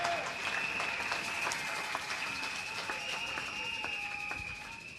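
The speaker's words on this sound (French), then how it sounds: "Acclame très fort pour ça" A church congregation applauds loudly, a dense sustained clapping that stays strong for several seconds and eases slightly at the end, with a steady tone and voices mixed into the crowd noise.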